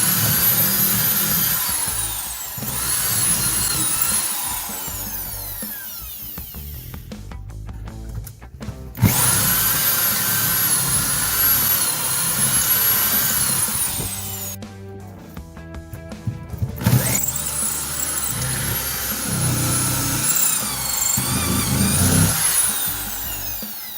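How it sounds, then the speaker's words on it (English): A power drill bores out spot welds on a 1969 Charger's torsion bar bracket, a loud, close, steady whine with grinding bite, running in three long bursts separated by brief pauses, with no talking. "So I'm going to have to get kind of maybe a longer drill"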